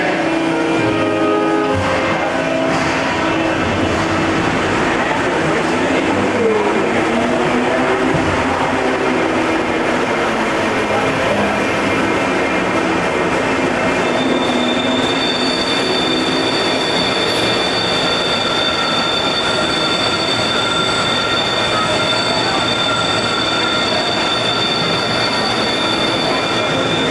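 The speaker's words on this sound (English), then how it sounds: "The train is now dispatched." A train on the Universal Studios Florida Earthquake ride, set in a simulated Embarcadero subway station, rumbles loudly and continuously for the whole stretch, with metal wheels squealing and grinding steadily along the rails.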